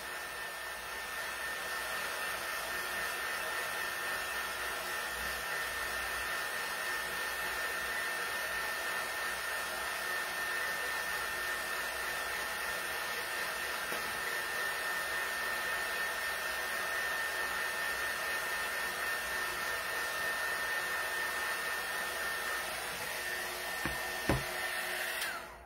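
A handheld hair dryer blows steadily on chalk paint coated on a pumpkin, running as a continuous close whoosh with a faint whine throughout, uninterrupted by voices.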